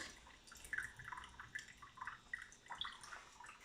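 Coffee dripping through the pour-over cone of a Breville Precision Brewer, a steady run of faint, irregular drips and small splashes close by, with no talking.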